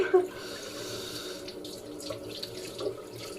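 Lukewarm water runs from a tap to wet a small wipe, a steady, close splashing stream that flows for a few seconds with no speech.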